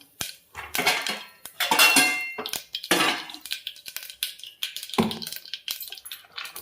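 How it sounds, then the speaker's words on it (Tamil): Mustard seeds spluttering in a hot pan with cumin added while cooking: dense, close crackling pops and sizzles mixed with metallic clinks of a utensil against the pan, loudest early and tapering into scattered pops. "கடுகு பொரிஞ்சோன்னே லேசாக கொஞ்சம் சீரகம் போட்டுக்கலாம்."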